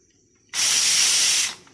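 A pressure cooker whistle lets off a single loud, steady hiss of escaping steam that lasts about a second, then cuts off abruptly into quiet.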